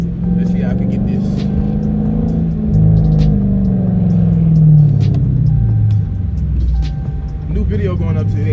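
A 2016 Dodge Charger R/T+ with quad tips and a straight-piped exhaust rumbles low and steady while driving in traffic, its engine note rising and falling slightly under someone talking throughout.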